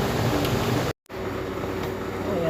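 A kitchen air conditioner hums as a broad, steady noise. It cuts out for a split second and then resumes at the same level.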